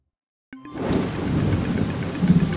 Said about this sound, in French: Il pleut abondamment.